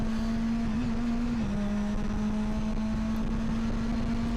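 A Mitjet 2.0L race car engine drones loudly and steadily on track, pitch dipping slightly then holding, heard from inside or close by with no voices.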